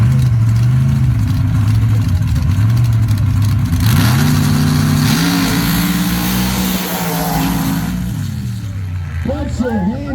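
Dirt drag racing cars called Self-inflicted and Smoking Gun make a pass at North Florida Motorplex. Loud engines roar and rev continuously, rising in pitch through the run, with an announcer's voice over them.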